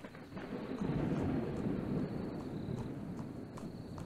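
Low rumbling video-game thunder rolls in a muffled, swelling wave, fairly faint and steady, then tapers off.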